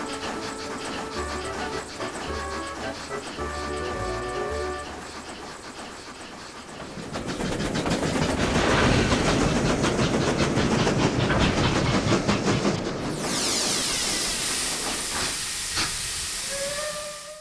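Steam locomotive climbing a mountain toward the summit, with a loud steady chuffing and hissing of steam building into a roar, then a high sustained hiss or whistle near the end; no voices.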